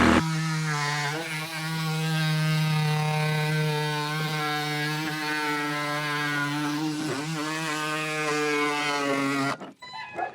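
A power saw with its blade buried in the material cuts steadily along a marked line while building a lamb and goat shelter, giving a loud, sustained whine with small dips in pitch, then cutting off abruptly near the end.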